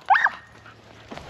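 Dogs in Greve forest give a short burst of two or three sharp yelping barks close by, followed by quiet outdoor air and a faint distant sound near the end.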